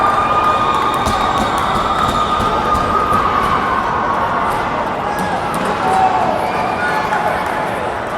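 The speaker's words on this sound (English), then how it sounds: "The crowd's going wild." A steady crowd roar fills an ice rink during a youth hockey playoff game, loud and continuous throughout, with a commentator talking over it.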